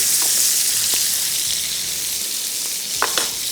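Gravy sauce for steak fries in a pan with a steady, close sizzle and a few soft stirring clinks, without any talk.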